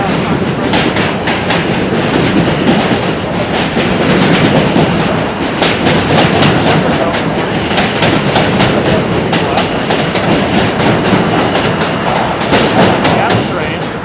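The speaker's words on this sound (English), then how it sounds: "Got the train." A New York City commuter train running between Williamsburg and Manhattan, loud and close, with a steady roar and rhythmic clickety-clack of wheels on rails throughout.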